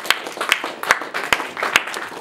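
A church congregation claps during a Spanish-language sermon, giving a short burst of sharp, fairly rhythmic claps with a softer patter of hands between them.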